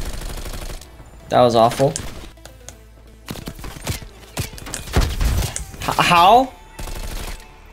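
Bursts of LMG fire from Black Ops Cold War, loud and close, crackling in short rapid volleys between shouted voices, with talk over much of the clip.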